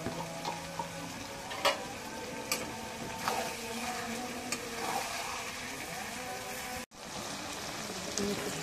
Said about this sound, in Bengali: এখন কষানি হচ্ছে, একটু ঝুমের পানি দিই।